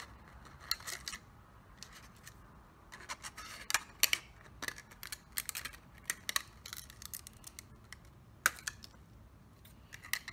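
Scissors snip through a plastic bottle in a quiet room, a long run of short, sharp crisp cuts in an irregular rhythm, close and clear with no talk.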